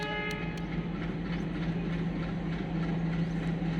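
A train rumbles past close to a house beside a station, a steady low continuous roar with a faint horn-like tone near the start and no talking.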